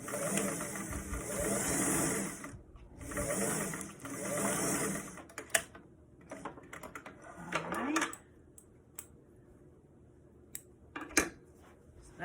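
A sewing machine stitching the seams of a bucket hat: steady loud mechanical whirring in two long bursts separated by a short pause, then quieter handling clicks and rustles of fabric.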